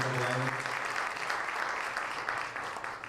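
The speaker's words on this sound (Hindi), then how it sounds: "जोरदार तालियां बजाएंगे।" A church congregation at the Hosanna International Church convention bursts into loud, sustained applause for a group. The dense, steady clapping continues throughout with no talk over it.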